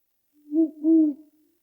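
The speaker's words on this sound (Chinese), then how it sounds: "白天猫头鹰一般不叫，" An owl hoots in daytime on a rain-soaked hillside: two close, clear, low hoots in quick succession, alone against silence.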